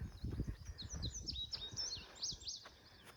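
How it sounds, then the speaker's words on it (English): Many birds sing in a park in York, Pennsylvania, with bright overlapping chirps and warbling phrases at moderate distance, while low rustling and handling noises sit underneath. "Lots and lots of birds out singing."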